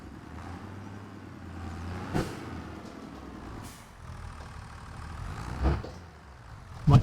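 A tractor engine runs steadily in Farming Simulator 25, a low mechanical drone with brief hissing bursts like air brakes near 2 and 5.7 seconds and a sharper thump at the end; no one speaks.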